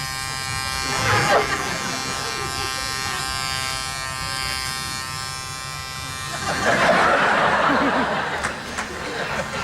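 A man imitates the buzzing of an electric shaver with his voice, mimicking Mr. Bean shaving, a steady close nasal drone lasting several seconds, followed by laughter and chuckles from others.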